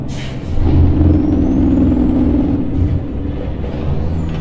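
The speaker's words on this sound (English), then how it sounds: "the Jake brake sound" A heavy truck's Jake brake in American Truck Simulator produces a sustained, throaty low rumble and rattle that holds steadily for several seconds.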